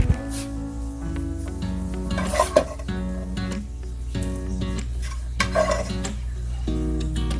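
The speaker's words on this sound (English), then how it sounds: "we will also now add our browned breakfast sausage to the cream cheese and Rotel" Browned breakfast sausage stirred into cream cheese and Rotel, with wet thick scraping and squelching from a spoon moving through the mixture, a couple of louder knocks against the pan, and a steady hum underneath.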